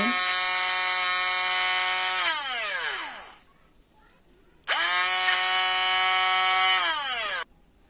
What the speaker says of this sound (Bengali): এখন আমি দইটা এভাবে ব্লেন্ড করে নেব।